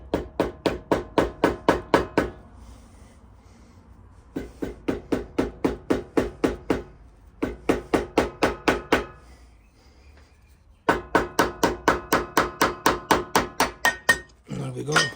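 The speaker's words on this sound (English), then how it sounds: "Dead blow hammer." A dead blow hammer delivers quick runs of light taps on a Harley-Davidson Twin Cam rocker box part, four bursts of rapid, even strikes separated by short pauses, close by.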